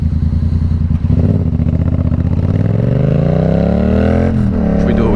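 A Yamaha FZ07/MT07 motorcycle rides loud and close while lane splitting, its engine note rising and falling through gear changes and revs, with wind rush and passing traffic.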